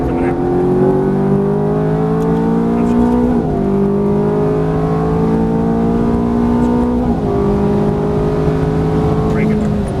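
Ferrari F430 engine on a track, revving hard with rising pitch as it pulls out of a corner, a steady loud roar across the whole stretch with two brief dips where the gears shift.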